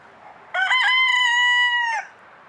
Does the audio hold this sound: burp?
no